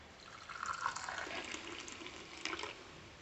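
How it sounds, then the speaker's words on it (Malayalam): Freshly made, steaming hot tea is poured out, a soft steady liquid splash running for about three seconds with a brief swell near the end, heard alone without talk. "ഞാൻ ഒഴിക്കുവാണേ."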